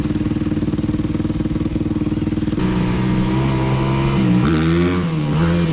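A dirt bike engine idles with a steady rapid pulse on sugar cane trails, then revs and climbs in pitch as the rider pulls away, loud and close.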